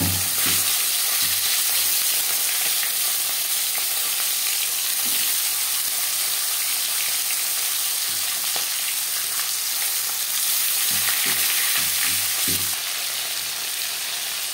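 Salt and turmeric marinated foli fish pieces frying in hot refined oil, a continuous loud sizzle with occasional low clatter and stirring knocks from a pan, no voices.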